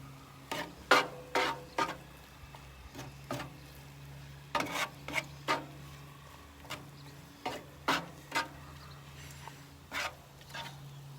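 Garlic and ginger cooking in a pan for Hawaiian fried rice, with a spatula scraping and stirring in repeated clusters of sharp strokes over a quiet low hum, no talk.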